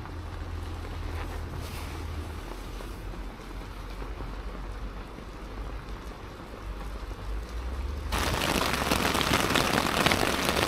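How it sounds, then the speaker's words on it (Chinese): Heavy rain drums steadily on a metal sheet roof during a windy night storm in a park in Tahe county, with a low wind rumble underneath; the downpour grows abruptly louder and denser near the end. "雨越下越大了。"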